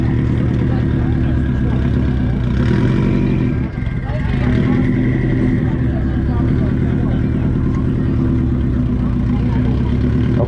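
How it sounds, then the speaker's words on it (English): A Subaru Legacy wagon at an exhaust competition rumbles nearby in a deep, steady idle with a brief dip, while people talk over the engine. "I quite like this generation Legacy. I like these headlights. This was a nice design car. And it sounds rumbly."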